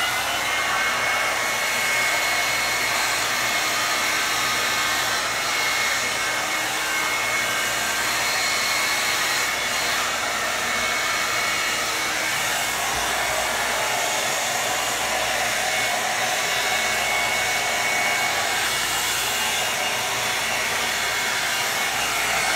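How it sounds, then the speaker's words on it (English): A Revlon blow dry brush running on its low setting gives a steady, loud whooshing roar of blown air with a faint motor whine that holds unchanged throughout, with no talking. "y'all could probably type if you do like Revlon hair dry brush, blow dry brush. But I'm gonna put it on low because it's really loud"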